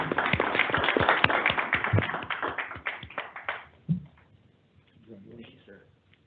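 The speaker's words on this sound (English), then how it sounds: "give him a round of applause" Applause for an employee's 10-year service award at a state transportation board meeting, a burst of clapping from a room of attendees that fades out after about four seconds, followed by quiet murmuring.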